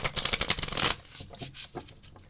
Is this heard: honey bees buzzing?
no